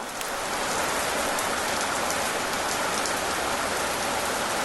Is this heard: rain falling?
yes